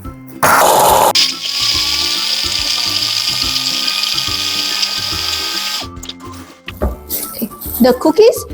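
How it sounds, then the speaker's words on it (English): A blender whirs loudly and steadily for several seconds, grinding Oreo cookies into crumbs, then stops and is followed by clattering. "Take the Oreo cookies and put them into the blender."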